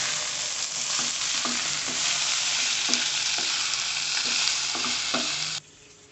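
Spicy chicken fry sizzles loudly and steadily in a pan, with a bright continuous hiss and occasional spatula scrapes and taps close by, until the sound drops off abruptly near the end.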